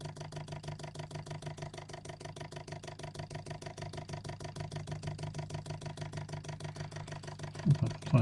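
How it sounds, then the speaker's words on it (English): A small homemade Bedini-style motor spins steadily, giving a fast, even pulsing whir with a constant low hum that stays level throughout and swells a little near the end. "the motor will in fact spin."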